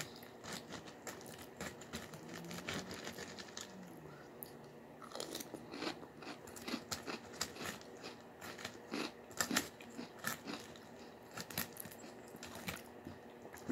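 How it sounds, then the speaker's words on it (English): Someone bites into and chews Cap'n Crunch Halloween Crunch cereal close up, giving a steady run of soft crunches and chewing sounds with no talking. "I'm going to take some regular bites."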